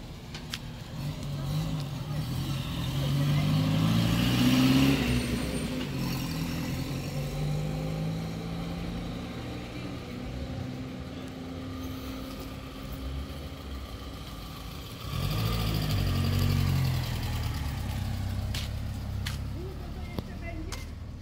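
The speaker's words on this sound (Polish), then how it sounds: "teraz jedzie Mercedes." A Mercedes car drives past in the street, its engine rumbling with a low hum that swells as it approaches and passes, then fades before a second vehicle rises near the end; a person talks over the traffic.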